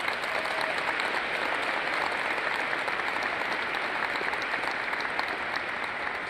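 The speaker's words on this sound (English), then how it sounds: "So let's give these families a round of applause." At a military base ceremony, an audience applauds award-winning families with an even, steady round of clapping that holds at moderate volume throughout.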